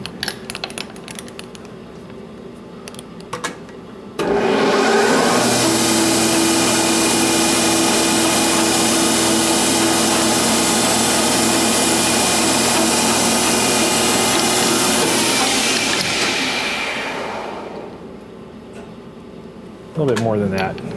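A metal edge finder being machined to put a small chamfer on its end, the machine's steady loud whir and cutting drone running for about thirteen seconds before spinning down, with brief handling clatter around it.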